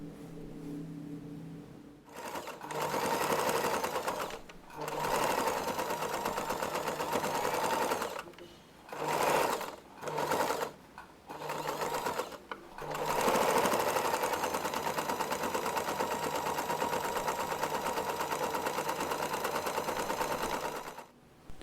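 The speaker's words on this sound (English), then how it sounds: "To close the opening, simply sew all around the fabric one last time." A sewing machine stitches all around the edge of a fabric organizer to close its opening. Its rapid mechanical hum runs in several bursts with short pauses between them, then keeps going steadily near the end, close and clear.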